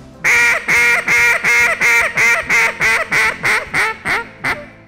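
A duck call blown in a descending cadence of about a dozen loud, honking quacks, evenly spaced and gradually shortening and softening toward the end, heard alone and close up.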